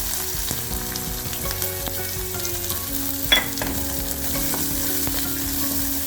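Fennel seeds and small onions frying in a pan with a constant loud sizzle, with occasional stirring scrapes and light metallic knocks from a spoon in the pan.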